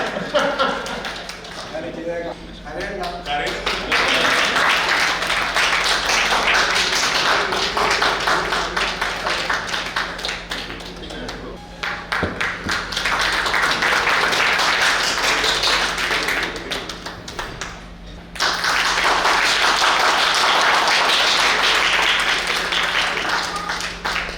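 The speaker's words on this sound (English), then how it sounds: "Please clap." Audience applause at a Y's Men club installation ceremony in Westchester, loud continuous clapping in long stretches that briefly dip and resume, with a steady low hum underneath.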